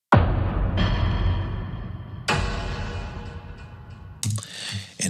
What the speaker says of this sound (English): The second track is Exploding Car.